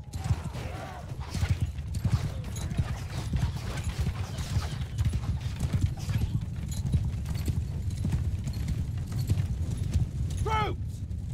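Many horses gallop in a medieval battle in the video game Mount & Blade: Bannerlord, a dense, continuous drumming of hooves close by, with shouted commands and a brief whinny near the end.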